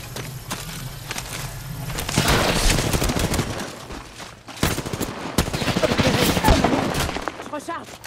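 Loud bursts of automatic gunfire in an Apex Legends match, dense rattling volleys with sharp single shots between them and a character voice briefly heard.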